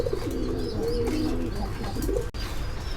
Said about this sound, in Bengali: আমরা নেক্সট খাঁচায় এক জোড়া ব্লু শার্টিন কবুতর দেখতে পাচ্ছি